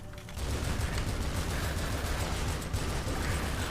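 Rapid gunfire from the video game Tomb Raider Underworld, fired at spiders, forms a dense, continuous crackling barrage that runs steadily and loudly almost the whole time, with no talk over it.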